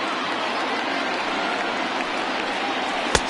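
A crowd of over 39,000 roars steadily on its feet at a baseball game on PS4, a dense, loud, continuous wash of cheering with one brief sharp crack near the end.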